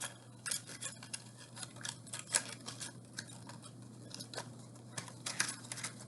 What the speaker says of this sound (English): we're going to cut a little V shape around each of these marks